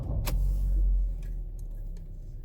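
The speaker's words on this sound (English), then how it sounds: "Now I'm going to start the car." A 2017 Ford C-Max 1.6 petrol with a misfire fault code is started, with a short starter whir and a sharp click, a low rumbling catch, and then a steady idle settling in close by.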